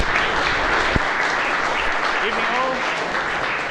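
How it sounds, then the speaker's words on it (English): A seated audience at a talk on the science of swordsmanship applauds Scotty Harrison with a steady, fairly loud round of clapping, and faint voices mix in. "So, round of applause for Scotty."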